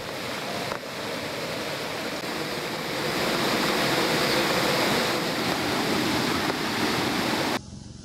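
Floodwater from the overflowing Kirimara river rushes over the Kamburupitiya–Mulatiyana road in Sri Lanka, a loud, steady broadband roar of churning water that swells slightly midway and holds without pause, with no voices.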